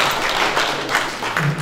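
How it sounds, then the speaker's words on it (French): Applause at a Francophonie Week event, cheering women among Burundian students bound for France: a dense, even wash of clapping throughout, short and moderately loud, with no speech over it. "je crois qu'on peut vous applaudir"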